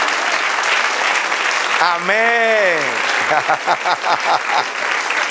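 A church congregation claps for the Lord during a Spanish-language sermon, the applause running throughout while a voice rises in a sung or drawn-out exclamation and then speaks over it.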